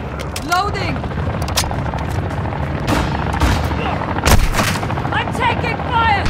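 Gunfire from Call of Duty Modern Warfare 2 cracks in sharp single shots and short bursts, with booming blasts over a constant game backdrop, and a voice talks briefly over it.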